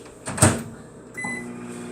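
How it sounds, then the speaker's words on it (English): A microwave oven heats a mint syrup mixture: a short thump and click at the door or start, then a steady low electrical hum with a faint whine that continues alone. "we're going to go to the microwave for a minute"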